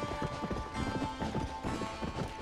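A horse's hooves clip-clop at a steady trot while riding in the video game Red Dead Redemption, the close rhythmic strikes continuing under a faint background hum.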